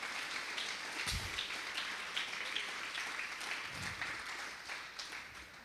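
A church congregation clapping in praise during a service, a continuous spatter of applause of moderate loudness that rolls on steadily, with a couple of low thumps underneath.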